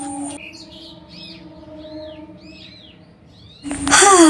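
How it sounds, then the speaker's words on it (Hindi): Small birds chirp with a few high, sweeping whistled calls over a steady low hum, fairly soft and spaced out. A sharp louder burst of sound cuts in at the end. "इस क्लिप पर चिड़िया का आवाज़ कितना सुंदर लग रहा है।"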